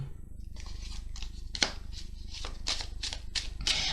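Tarot cards being shuffled for a reading: quiet, close papery riffles and slaps in irregular bursts, with soft handling noises between them.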